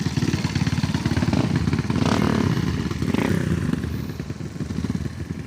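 Several motorcycles set off together for a ride toward Tangkuban Parahu at the start of the rainy season, engines rumbling loudly and steadily close by with a brief rev, no talk over them.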